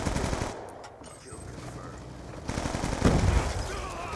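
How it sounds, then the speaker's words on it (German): A machine gun turret in the Black Ops 2 video game fires in rapid bursts, with dense rattling gunfire that grows louder toward the end. "Oh, da ist ein Geschütz."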